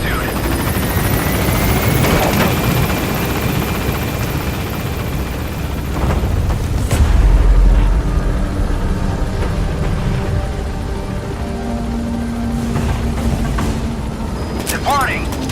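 Helicopter in the Metal Gear Solid 5 video game lifting off from a landing zone, a loud steady rotor drone with low rumble swelling midway, heard alone throughout.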